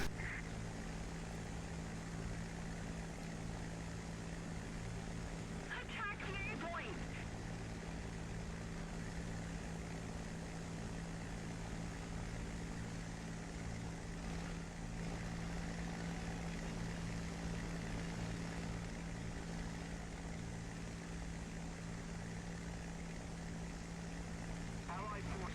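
A propeller aircraft engine in a flight simulator drones steadily and faintly at a constant pitch while the plane climbs over an airfield, with someone talking over it throughout.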